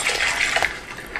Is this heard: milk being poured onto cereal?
yes